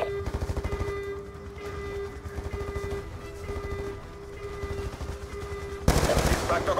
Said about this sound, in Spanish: Están disparando al Claw enemigo.